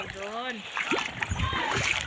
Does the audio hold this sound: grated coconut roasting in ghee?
no